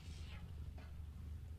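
A cat named Thiefy lets out a short, soft meow, followed by a second fainter chirp, against a low rumbling background.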